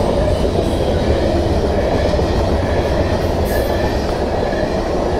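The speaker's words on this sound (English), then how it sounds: "Oh, I love it when it's a mixed up train." Loud, continuous rumble of a mixed freight train rolling past close by, steady wheel roar with faint squeals and clatter throughout.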